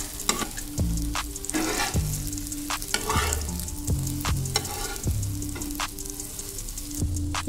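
Onion egg kalakki sizzles steadily in a hot oiled pan while a spatula scrapes and turns it, giving repeated clinking strokes over a continuous frying hiss.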